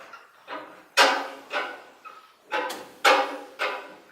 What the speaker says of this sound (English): we're going to do ghost chops on beats 1 and beat 3